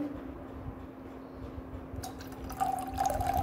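Cumin water is poured by hand, a soft, steady liquid trickle close by that grows a little brighter and fuller toward the end, with no talking over it.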